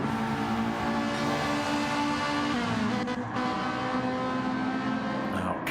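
A McLaren race car engine in a racing video game holds a steady, loud, buzzing drone with dense harmonics throughout, with only small shifts in pitch and no pause.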